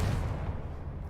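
A Confringo spell in Hogwarts Legacy goes off as a low, rumbling blast that fades away over about a second, heard on its own.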